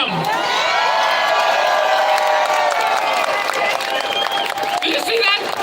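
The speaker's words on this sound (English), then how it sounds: "can we get a round of applause for our Prime Minister, Justin Trudeau" A crowd at an outdoor Freedom Convoy rally in Vancouver cheers, whoops and claps loudly and continuously, with shouted voices mixed in and a high whistle-like tone rising toward the end.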